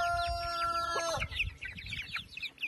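Hungry chicks clucking and peeping in quick, overlapping bursts, close and fairly clear, with a brief whistling tone at the start.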